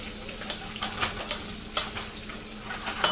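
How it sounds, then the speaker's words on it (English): Bacon being stirred in a clam chowder pot, with a spoon scraping stuck bits off the bottom under steady frying sizzle, in several distinct close stirring strokes. "So just kind of stir it up."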